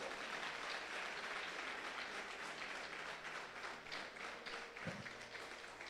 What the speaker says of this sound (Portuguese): Você pode aplaudir bem forte o Senhor?